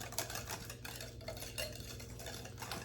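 A whisk stirs pumpkin pecan pie filling in a bowl, giving a faint, continuous scraping and swishing up close with light clinks against the dish and no talking.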